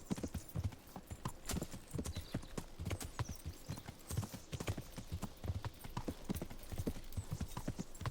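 A tired horse's hooves clip-clop in the medieval video game Kingdom Come: Deliverance, a steady trotting rhythm of hoofbeats continuing throughout at moderate loudness.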